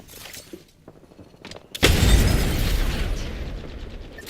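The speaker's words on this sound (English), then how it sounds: "Chucking a frag grenade" In a first-person shooter, a few faint mechanical clicks and rattles come first, then a thrown frag grenade goes off with a sudden loud boom that rolls out into a long, fading rumble of debris.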